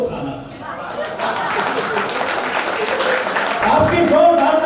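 An audience at a Hindi poetry recital breaks into applause, a dense wash of clapping that swells toward the end while a voice talks over it.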